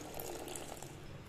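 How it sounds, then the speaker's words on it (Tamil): Tamarind water pours and splashes into a hot pan of frying egg curry, a short, close burst of watery hissing without any talk. "1/3 ஸ்பூன் புளி தண்ணி ஆட் பண்ணிக்கலாம்."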